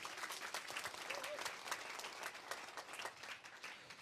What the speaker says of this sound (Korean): 우리 모두를 위해서 큰 박수 부탁드리겠습니다